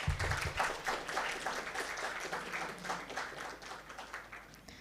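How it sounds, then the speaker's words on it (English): An audience of students and guests applauds the chairperson at a diplomacy and peace seminar; soft, fairly even clapping carries on throughout, moderately distant and without speech. "let us once again give him a warm round of applause"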